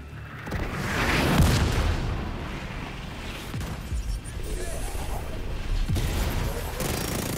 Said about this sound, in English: Mortars are coming from a mobile unit near the shoreline south of your position.